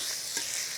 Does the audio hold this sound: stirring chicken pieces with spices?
yes